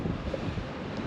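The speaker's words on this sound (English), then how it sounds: "Oh my gosh, it's windy." Wind gusting across a microphone at Lisbon Castle, a brief low buffeting rumble with uneven puffs, fairly loud and close.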